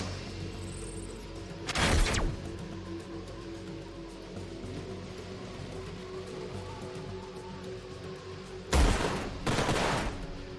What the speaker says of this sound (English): So, yeah, those bombard cannons.